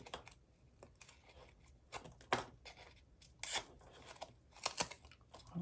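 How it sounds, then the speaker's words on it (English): Scissors snipping into cut paper for an artwork, a few short crisp snips and rustles spaced over several seconds, close and quiet with no talk. "I use my scissors and just cut into them a bit more"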